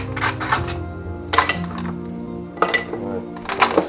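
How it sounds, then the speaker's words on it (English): Ice cubes clatter and clink into a drinking glass for lemonade in several bursts, bright tinkling hits with short pauses between them, close up. "put a hefty amount of ice in that glass."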